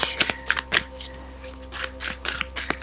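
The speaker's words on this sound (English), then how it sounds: "I'm going to get started by shuffling these oracle cards" Oracle cards being shuffled by hand in a series of crisp, papery riffles and flicks at close range, alone with no talking.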